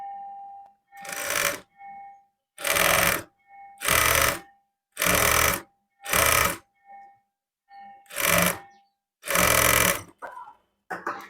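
Sewing machine stitching along the folded edge of blouse fabric, running in about nine short, close bursts separated by brief pauses.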